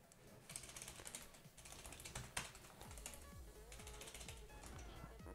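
Rapid clicking keystrokes on a computer keyboard while coding, a quiet, steady patter of key taps with a few sharper presses, close and alone.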